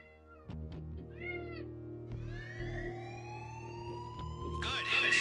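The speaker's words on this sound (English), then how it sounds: "What are you meowing about?" A cat meows several times in a busy indoor space, its calls rising over a steady hum, with a siren-like wail and human voices mixing in toward the end.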